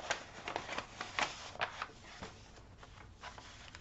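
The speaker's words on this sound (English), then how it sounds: "Sorry about the crinkling, I know it's loud." A vellum envelope and scraps of textured paper crinkle and rustle close by in short bursts, soft and uneven, with no voices over them.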